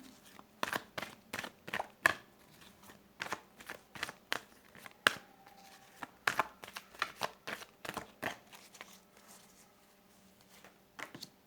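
Angel tarot cards being shuffled during a Turkish coffee-cup and tarot reading, a steady run of sharp papery riffles and snaps, fairly close and quiet, with no talking.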